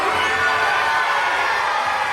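A wrestling crowd at an event in Georgetown roars with broad, sustained cheering and whooping for a couple of seconds, loud and filling the space.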